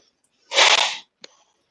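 A single close, loud sneeze burst, followed by a short faint sniff or click afterward in an otherwise quiet room.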